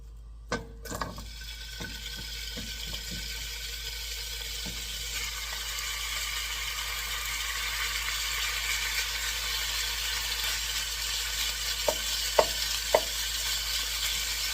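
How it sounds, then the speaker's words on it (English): Steady sizzling of chicken stir-frying in oil in a hot pan hisses throughout, with a few sharp clicks and taps of utensils early on and near the end. "You can hear this sizzle sound noise."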